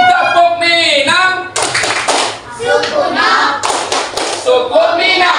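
A school class performs the Minang clap routine, rhythmic bursts of many hands clapping together, loud and near, mixed with children chanting and a teacher's voice.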